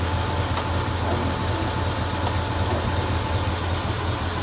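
Dennis vehicle rolls along under a steady low engine drone and rumble, with a couple of faint clicks, moderately loud and close, no voices.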